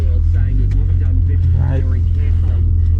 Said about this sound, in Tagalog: Dito banda traffic kasi maraming mga parents na naghahatid sa mga bata.